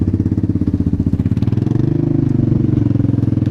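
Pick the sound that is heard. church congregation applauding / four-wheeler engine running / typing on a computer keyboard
four-wheeler engine running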